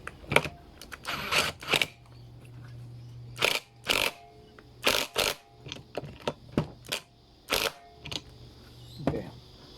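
An M14 socket tightening a nut on a Homelite Mighty Lite blower, heard as a string of sharp clicking ratchet bursts and clacks in irregular clusters, close and dry, without speech.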